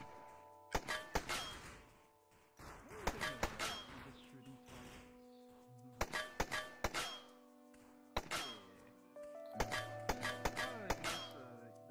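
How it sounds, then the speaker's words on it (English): Shots striking a wall in VRChat target practice, a run of sharp thunks and clangs with ringing metallic tails, fired in quick bursts and irregular clusters, close and fairly quiet. "Oh, I'm shooting the wall."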